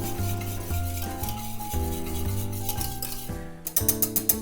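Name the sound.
whisking Worcestershire sauce into a pan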